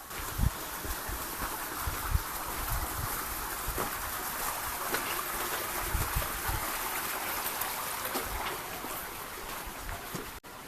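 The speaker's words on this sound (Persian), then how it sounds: "این صدای آبم" Spring water flowing over rock in a weathered hollow in the desert near Bafq, Iran, a steady close wash of trickling water with a few faint knocks and no talking.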